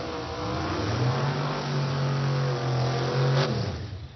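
A 2002 Chevrolet Camaro drag car at an ADRL Pro Drag Radial event holds a loud, steady rev with a strong droning tone, then cuts off sharply near the end.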